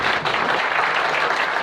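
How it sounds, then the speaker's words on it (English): An audience at a symposium session applauds in a dense, steady burst of clapping that lasts the whole short moment. "So, clap for that."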